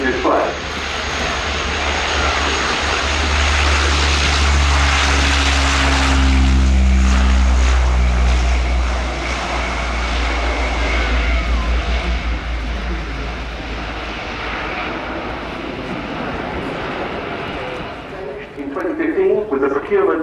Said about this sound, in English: And here's the Atlantique on the roll, going off to hold before coming back to perform a really,